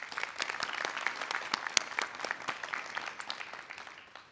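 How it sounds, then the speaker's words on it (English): At a nursing pinning ceremony, an audience claps for supporters of the graduates, a sustained round of many hands with sharper individual claps standing out, moderately loud and tapering off at the close. "So I'd like to give you all a round of applause"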